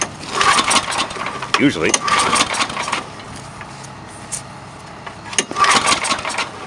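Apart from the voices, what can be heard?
old Chevy 3/4 ton truck engine cranking and starting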